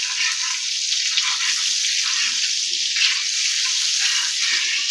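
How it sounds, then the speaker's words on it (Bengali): Oil and butter heating in a pan give off a steady, hissing sizzle, even and continuous at close range, with no talking over it. "তেল আর বাটারটা ভালো করে গরম হয়ে যায়।"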